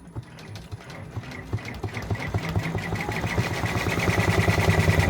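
A multi-needle embroidery machine stitches a design, its rapid, regular mechanical clatter starting up and growing steadier and louder, with no talk.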